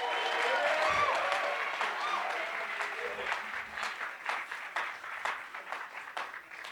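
Audience at a jazz music workshop claps, at first a broad wash of applause with faint voices underneath, then breaking into distinct rhythmic claps that continue steadily.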